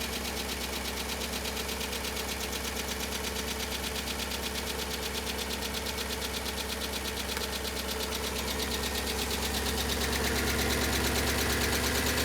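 Abandoned Audi A6 V8 engine idling with heavy top end noise, a dense, continuous rapid ticking and clatter over a steady drone, loud and close with no voices.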